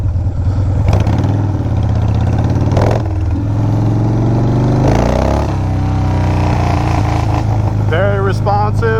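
A Harley-Davidson FXR motorcycle runs and revs loudly up close, its engine rising and falling through several throttle blips with a steady rumbling idle between them.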